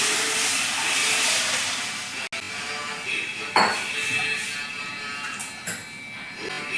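Cooked dal poured into boiling tamarind broth for Kerala puli parippu curry: a steady bubbling hiss with a soft plop and a few faint utensil clinks, close and continuous, with no talking.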